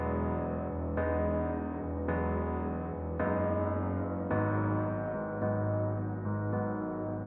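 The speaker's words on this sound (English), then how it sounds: "Altogether, those three piano sounds sound like this." Layered dreamy piano melody made of three stacked piano sounds, one carrying the low notes, playing sustained chords that shift every second or so, soft and steady with no voices.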